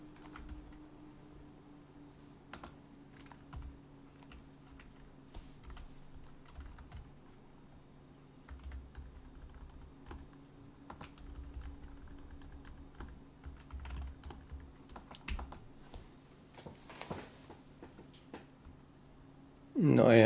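Steady typing on a computer keyboard while coding in C++, soft irregular keystrokes over a low hum for the whole stretch, ending with a louder burst of sound.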